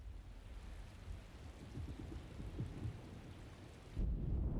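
A storm in the video game Alone in the Dark fills the air with steady rain and low rumbling thunder, dense and continuous, swelling louder near the end.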